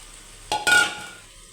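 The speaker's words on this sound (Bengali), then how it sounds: "এখন কচুরমুখীগুলো এখানে দিয়ে দিব। অনেকটা তেল আছে" Taro pieces drop into hot oil with spices, giving a sudden short burst of sizzling and a clatter that fades within about a second.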